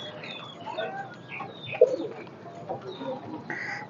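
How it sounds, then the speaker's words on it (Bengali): Pigeons coo softly at a moderate distance on a calm morning after rain, with low repeated calls over quiet outdoor background and faint chirps. "দেখেন কবুতরগুলো খুব শান্তিতে আজকে আছে"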